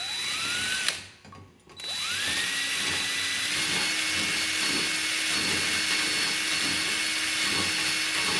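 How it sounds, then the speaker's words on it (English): A hand drill with a bit grinds down inside an engine cavity of a Polaris Indy 650 triple snowmobile engine, a steady whining buzz that cuts off briefly near the start, then runs continuously up close. "So I just put a drill bit into my drill, and I'm just gonna go down in there."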